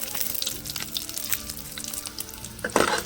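Dried red chillies sizzling and frying in hot oil in a pan, a continuous crackling sizzle with occasional stirring clinks, close up.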